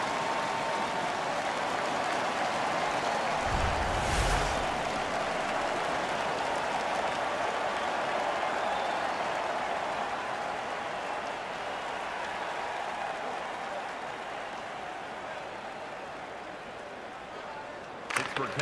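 A simulated NHL 15 hockey arena crowd roars steadily after a fight in a Columbus Blue Jackets versus Pittsburgh Penguins game, a dense, sustained cheering wash with a brief louder burst early on.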